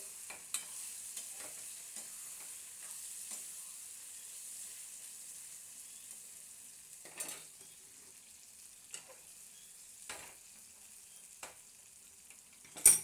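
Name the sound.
stirring katla fish oil curry with split chillies in pan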